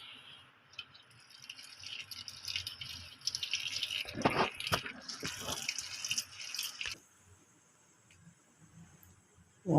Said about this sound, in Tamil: வெந்த பாஸ்தாவை பைப்பில் வர தண்ணியில் கழுவி வச்சுக்கணும்.